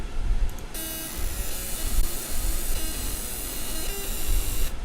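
A laser marking machine engraves a curved part, giving off a steady hiss with thin, high whining tones and faint intermittent beeping pitches, with no voices alongside.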